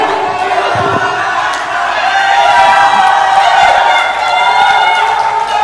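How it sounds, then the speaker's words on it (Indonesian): An audience at a regency head election debate in Kuningan claps and cheers, a loud, dense crowd roar with whoops and scattered shouts that holds steady for several seconds. "Tepuk tangannya meriah"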